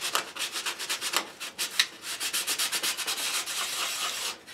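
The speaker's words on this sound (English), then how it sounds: "take the sandpaper and just use your finger and just sand along that joint" Fine grit sandpaper worked by fingertip along a model glider wing panel joint, a quick run of rhythmic close rubbing strokes, soft and steady with no talking.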